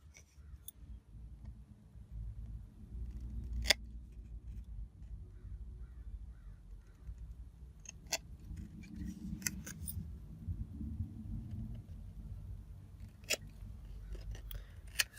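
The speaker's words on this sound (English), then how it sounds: "I'm just going to then snip it even to the panel." Scissors snip a gold-bordered paper card panel for a St. Patrick's Day card, sharp short cuts spaced irregularly over a low room hum, close and fairly quiet.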